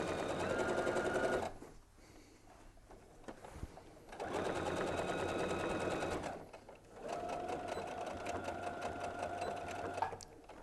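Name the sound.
sewing machine stitching quilt binding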